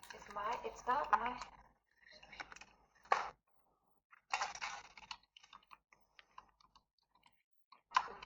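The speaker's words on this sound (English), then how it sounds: "She's typing." Typing on a computer keyboard during an online class, with several short bursts of clicking keys broken by pauses, fairly close and clear, with some voices in the background.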